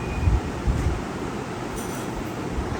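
Train noise at Malda railway station in West Bengal, a low rumbling with a few heavy thuds and a faint high squeal, steady and fairly near, with no one speaking.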